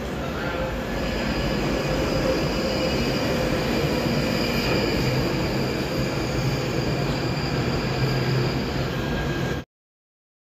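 London Underground train at King's Cross, a steady loud rumble of the carriage in motion with faint wheel squeal running throughout, ending abruptly.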